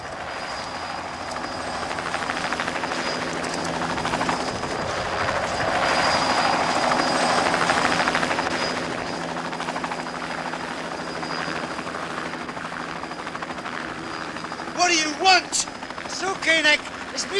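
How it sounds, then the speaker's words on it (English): A helicopter hovering nearby in a 1979 British TV crime drama, its engine and rotor roar building into a loud, steady drone that fades back before voices break in near the end. "that helicopter's here to take you"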